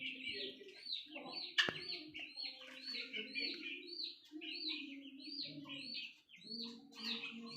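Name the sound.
chicken clucking in its coop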